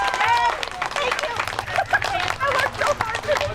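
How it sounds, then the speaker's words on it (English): Applause at a union rally, scattered clapping mixed with crowd chatter and voices, moderately loud and continuous for a few seconds. "So I want a big round of applause."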